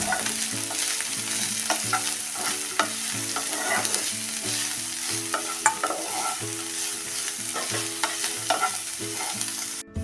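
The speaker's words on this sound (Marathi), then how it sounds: "ह्या भाज्या पण आपण चांगल्या मऊ पडेपर्यंत परतून घ्यायच्या आहेत" Vegetables for fried rice sauté in a pan with a steady loud sizzle and repeated stirring scrapes, a continuous close frying sound with no talk.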